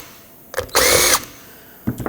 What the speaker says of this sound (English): with a 7mm socket you can remove these two nuts